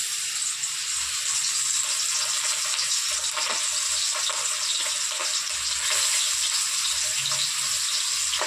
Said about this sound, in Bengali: আজকে কড়া করে মাছ ভাজা হচ্ছে